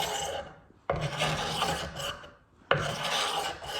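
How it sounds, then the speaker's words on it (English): Rough rasping scrape of varnish being scratched off hickory wood, two long strokes, each starting abruptly and grinding on for about a second and a half, close and fairly loud with nothing else heard. "we are also scratching off the hickory because that's also added in the varnish"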